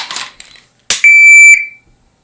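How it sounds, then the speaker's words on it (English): A shot timer's start beep sounds as one loud, sharp electronic tone lasting about half a second, preceded by a brief click and some faint rustling. "Stand by for the beep."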